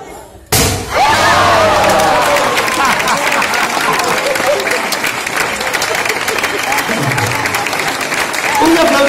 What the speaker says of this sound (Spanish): Un aplauso de la gente.